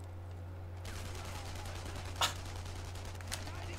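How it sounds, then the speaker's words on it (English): Enemy gunfire in the shooter Enemy Front, a few sharp reports over a low steady hum, one louder crack standing out among fainter shots. "They're shooting, me through the fucking crate!"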